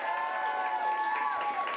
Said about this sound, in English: And for Jason's film, applaud now.